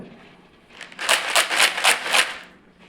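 A container of lentils is shaken briskly, producing a bright rhythmic rattle with about six quick pulses, close by, then stopping.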